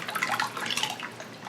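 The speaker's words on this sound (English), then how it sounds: "I'm gonna pour off a good amount of it here." Bacon-scented cold process soap batter pours in a steady, close liquid stream, a soft continuous splashing trickle with no talking.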